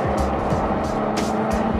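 A BMW 340i accelerates hard down a street with a loud, continuous engine roar and rushing road noise, close up and steady across the whole moment.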